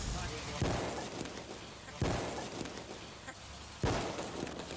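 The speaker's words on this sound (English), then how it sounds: "Protect your ears. Fire in the hole. Let me gunfire." Three sharp gunshots, spaced a second or two apart, each a loud crack with a brief tail against steady background noise.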